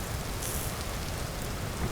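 Steady rain falls in the survival game Vintage Story, a dense continuous hiss of drops on surfaces with no voices over it.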